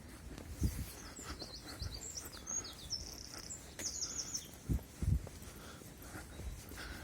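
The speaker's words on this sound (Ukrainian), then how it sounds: "Що справді гарно, що чути спів пташок." Birds sing in an empty park, with high chirping phrases that come and go over soft, quiet ambient noise and a few low thumps like footsteps.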